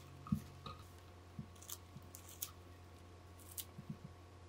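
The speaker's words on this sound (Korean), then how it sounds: "팽이버섯은 밑둥을 잘라내고 적당한 두께로 찢어주세요." Enoki mushrooms having their base cut off and being torn apart by hand, with soft snips and faint squishy tearing sounds, a handful of small separate bursts over a quiet humming kitchen background.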